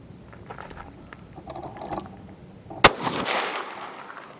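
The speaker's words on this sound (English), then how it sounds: "How about the 45? This big freaking hand cannon right here. This giant, thick, fat bullet." A single loud, sharp gunshot from a .45 pistol lands midway, followed by a short rumbling tail, after quieter mechanical clicks and faint shuffling.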